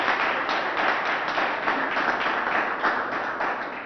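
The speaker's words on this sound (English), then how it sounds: "If everybody can hear my voice, please clap your hands." An audience at a Bronzeville Week press conference claps hands, a dense, even patter of many hands at moderate distance that holds steady for a few seconds before easing slightly.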